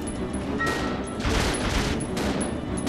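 Handgun shots fired at a boss in the video game Resident Evil Zero: a few sharp bursts spaced roughly half a second apart over a steady game background.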